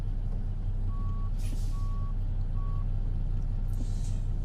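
Reversing beeps from a Volvo VNL 670 truck in American Truck Simulator, three evenly spaced single tones over a steady low diesel idle rumble, with a brief hiss of air in between.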